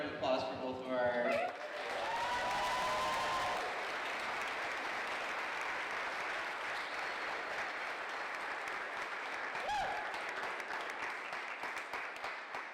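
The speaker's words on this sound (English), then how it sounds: "One more round of applause for both of our." An audience at a literary reading gives a sustained round of applause that swells after a brief spoken opening and continues steadily, with occasional cheers and voices mixed in.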